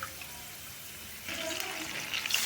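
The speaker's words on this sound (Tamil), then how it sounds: "அதே மாதிரி இந்த டம்ளர் 2 டம்ளர் தண்ணி ஊற்றணும்," Two tumblers of water poured into a pan for upma, a steady splashing pour starting midway and continuing to the end, moderately loud after a quiet opening.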